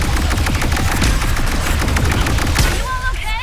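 Weapons fire at monitors in Ratchet and Clank: Rift Apart, a loud, nonstop rapid barrage of shots and impacts layered with booms, dense and close, with a brief synth tone near the end.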